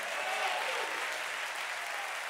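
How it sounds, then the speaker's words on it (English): A congregation claps steadily during a Sunday morning church service, a dense, continuous wash of applause filling the room at a moderate level with no voices breaking through. "if you clap, clap like you believe it"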